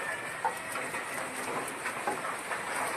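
Rain begins falling on a dairy and bull farm, a soft broadband patter with scattered louder drops and no speech.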